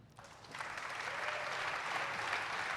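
An audience at a live PC gaming show breaks into applause and cheering, swelling from a quieter start into a sustained wash of clapping and crowd noise.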